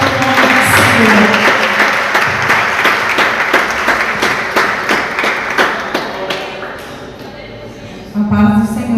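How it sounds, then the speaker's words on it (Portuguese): A church congregation claps together in steady, dense applause at a worship service, loud and close, fading slightly before a brief final swell, with voices mingled in. "E as palmas louvam e exaltam o nome do Senhor."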